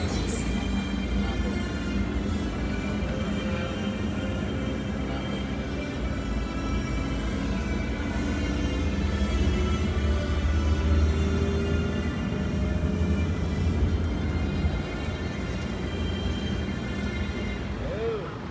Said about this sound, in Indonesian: Dan ini suara dari kabinnya, senyap banget ya.